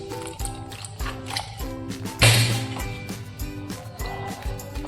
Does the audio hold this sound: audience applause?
no